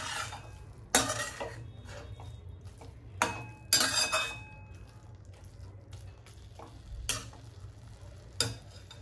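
Fenugreek leaves and crushed peanuts are stir-fried in a pan: a soft low sizzle runs throughout, punctuated by loud, scattered scrapes and clanks of a spatula against the metal.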